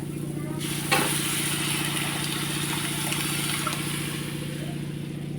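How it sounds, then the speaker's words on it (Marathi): Dal poured into hot fried spices in a pan on a medium flame and stirred, giving a steady loud sizzle and hiss that holds throughout, with a brief clatter near the start. "त्याच्यामध्ये आता आपण घालून घेऊ डाळ"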